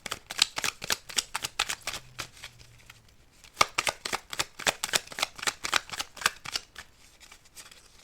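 Tarot cards being shuffled, with steady close riffling flutters and crisp card slaps in a fast repeating rhythm that briefly pauses midway, no talking.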